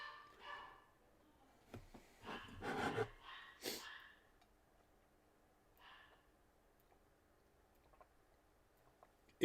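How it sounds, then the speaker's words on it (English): Dogs in a house let out a few muffled barks and snorts in short bursts, faint and somewhat distant, then the room goes quiet apart from a low hum. "Sorry for the barking, guys."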